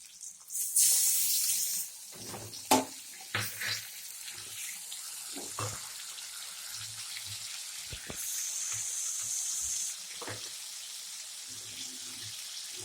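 Onion and tomato sizzle and crackle steadily in oil in a pan for a Malvani-style fish curry, with occasional clinks and scrapes of a utensil stirring through the food.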